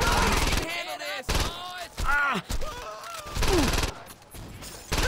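Gunfire aimed at security guards in Saints Row 2, loud bursts of shots mixed with shouting voices and game sounds, broken by short pauses between volleys.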